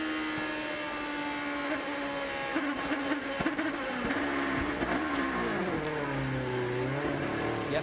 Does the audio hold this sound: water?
no